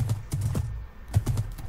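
Horse hooves thudding in Minecraft, a handful of close, muffled clip-clops in an uneven rhythm with a short pause midway.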